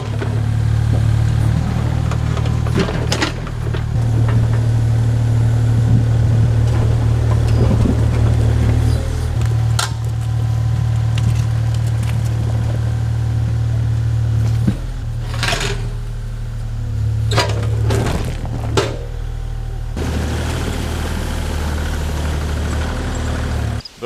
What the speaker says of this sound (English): So try to pop these two out with the excavator